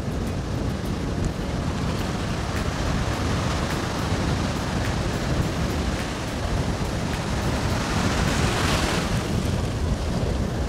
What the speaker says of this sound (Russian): Волны сегодня классные, я давно таких не видел.